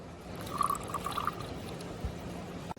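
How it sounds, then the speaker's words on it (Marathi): Water runs from a tap into a pot at a beachside spot in Shreevardhan, a soft pouring trickle with a few bright gurgles as the vessel fills, fairly faint over outdoor background noise. "आमचं भांड भरायला आले."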